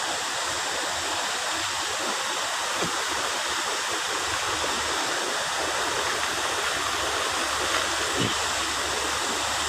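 Waterfall water crashes down in a steady, dense roar that stays constant and fairly close throughout, with no voices.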